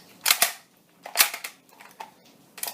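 A Nerf N-Strike Spectre dart blaster fires three times, each a sharp, close pop trailed by a short rattle, spaced about a second apart, followed by a few softer mechanical clicks.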